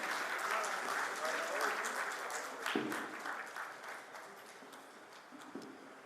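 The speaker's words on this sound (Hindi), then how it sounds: "अब सभी लोग तालियों से खड़े होकर के स्वागत करें जज साहब का" Audience applause welcoming a judge at a book launch ceremony, fairly faint, continuous clapping that slowly thins out, with voices over it.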